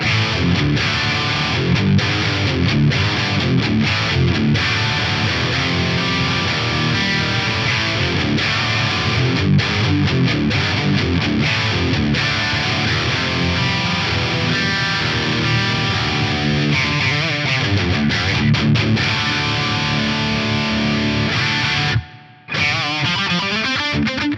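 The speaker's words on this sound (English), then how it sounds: "let's just hear this big chunky Mark series tone" Thick, heavily distorted Mesa Mark-series style electric guitar riffing from a NAM amp profile, with chugging palm-muted rhythm, loud and continuous, cutting out briefly near the end.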